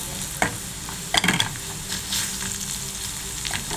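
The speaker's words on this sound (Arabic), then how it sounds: "وبعد كده نحط الطماطم كلها. حمرت معانا هي زي ما انتوا شايفه" Tomatoes frying in a pot for Egyptian lentil soup, a close, continuous sizzle broken by a few sharper scraping stirs.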